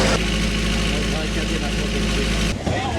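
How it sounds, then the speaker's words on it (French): A noisy generator in a steam railway's bar car, there to keep the drinks cool, drones loudly and steadily with a low engine hum and vibration. It cuts away abruptly near the end. "Il y a une voiture-bar avec son groupe électrogène bruyant pour garder les boissons au frais."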